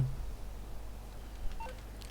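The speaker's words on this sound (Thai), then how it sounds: "กดโทรศัพท์ โทรหาแฟรงคลิน" A phone in GTA Online dials Franklin with a short run of faint electronic keypad beeps over a low steady hum, with no voices.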